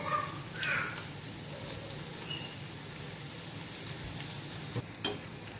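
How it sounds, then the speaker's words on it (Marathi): Onion bhaji (kanda bhaje) frying in hot oil, a soft crackling patter like light rain with occasional sharper pops, fairly quiet and close. "कांदा भजी असं गोल्डन ब्राउन होत आहे"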